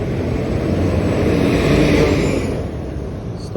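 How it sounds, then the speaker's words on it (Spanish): A bus passes along a quiet Tokyo street, its steady engine rumble and road noise holding close and loud before easing slightly as it moves on. "El bus."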